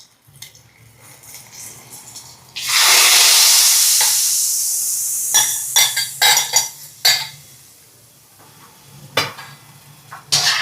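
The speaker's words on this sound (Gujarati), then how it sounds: "વઘારને આપણે મૂઠિયામાં એડ કરી દઈશું." Hot oil tempering of cumin, ginger-chili and asafoetida poured into a fenugreek muthiya mixture, giving a loud sudden sizzle that fades, followed by several sharp spoon scrapes and stirring clatters in a pan.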